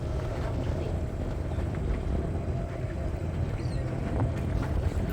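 A boat motors across the sea off Kodi beach in Kundapura, its engine a steady, moderately distant drone that mixes with wind buffeting the microphone and a faint wash of water.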